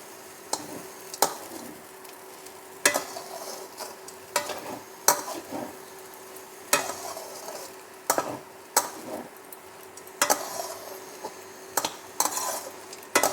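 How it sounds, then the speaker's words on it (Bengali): Sago and vegetables being stirred in a pan for a Bengali dish, giving repeated scraping and clinking strokes of a utensil against the pan over a faint sizzle, with irregular spikes and no talking. "এটাকে আমি একটু ভালোভাবে নাড়াচাড়া করব, ভালো করে একটু নাড়িয়ে নেব।"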